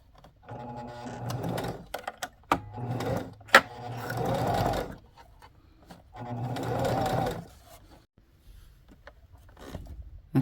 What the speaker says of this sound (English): Always take your foot off the pedal when you're sewing